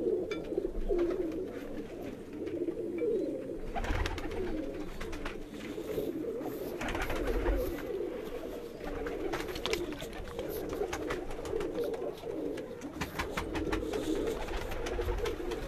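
A loft of rooftop pigeons, including paired breeding birds and a long-flying Salara pigeon, coos continuously in a thick, overlapping chorus that stays steady for the full stretch without talk.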